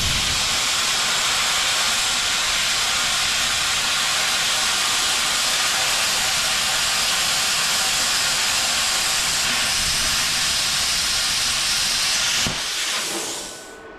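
A CUT-50P pilot-arc plasma cutter slices through half-inch steel at 50 amps on 240 volts, giving a loud, steady broadband roaring hiss for about twelve seconds before the arc cuts off abruptly, leaving near silence.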